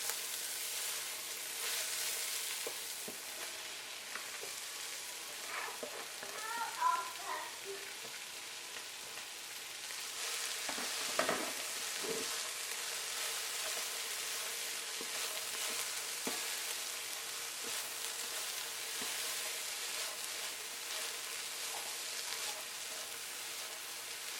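Okra frying with onion and crayfish in a pot, a soft continuous sizzle with occasional spoon scrapes and stirring clatter, steady and moderately close throughout.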